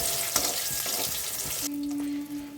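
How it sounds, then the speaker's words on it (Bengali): Eggplant pieces frying in mustard oil with salt and turmeric give off a steady, dense sizzle with light stirring, close up, and a faint steady tone joins near the end. "লবণ আর হলুদ দিয়ে ভালো করে বেগুনটা ভাজবো"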